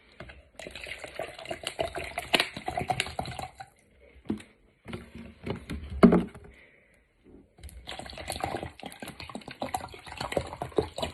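Water run or poured to fill a bottle, heard as close splashing and trickling in bursts with brief pauses between them, fairly soft, with no talking.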